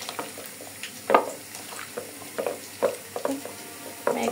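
Wet squelching of raw beef being mixed by hand with turmeric, chili, ginger, garlic, cumin and oil, soft irregular squishes and slaps repeating close up.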